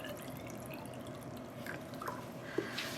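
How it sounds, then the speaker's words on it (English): Water rinsing out a container and a graduated cylinder used for yarn dyeing: a faint, steady running hiss with a few small drips and splashes near the end. "I'm gonna rinse out this container and our graduated cylinder."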